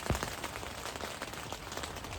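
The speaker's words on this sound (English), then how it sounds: "Can you hear me above the rain?" Rain falls steadily at an outdoor Pilates session during a festival, a dense, even hiss of drops with no speech.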